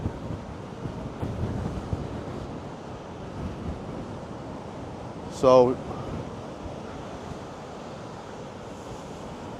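Waves roll in at a stormy high tide under Storm Lilian, a steady washing roar with gusting wind on the microphone, and a person briefly speaks partway through.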